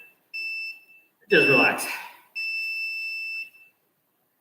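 During an adult Hapkido class, a workout timer gives two long, steady, high-pitched electronic beeps, each about a second long. Someone speaks briefly in the gap between them.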